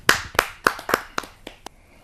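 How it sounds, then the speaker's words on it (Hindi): A few people clap to welcome a poet at a Hindi kavi sammelan, a short run of distinct, spaced hand claps that thin out and fade after about two seconds, near and alone. "जोरदार तालियों से।"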